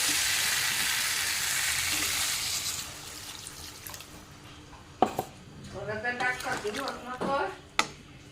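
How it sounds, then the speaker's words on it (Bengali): Water poured into a pan of fried vegetables, starting as a loud rushing sizzle that fades, followed by utensil clinks and bubbling while a person speaks. "ভেজে নিয়েছি, এখন দিয়ে দিই জল।"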